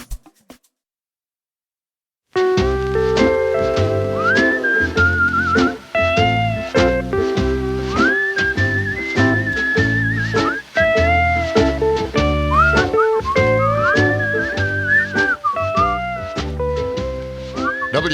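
Melodic whistling carries a tune within a song, bright and sustained over a rhythmic backing that begins after a short silence, with no talk over it.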